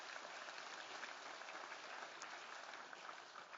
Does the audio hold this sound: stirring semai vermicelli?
no